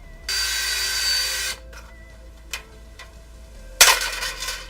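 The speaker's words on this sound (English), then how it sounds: "start pre-drilling the holes and then riveting this stuff together" A power drill whirs loudly for about a second while pre-drilling rivet holes in a Mazda Miata taillight assembly, followed by a few short clicks and a sharp metallic clatter.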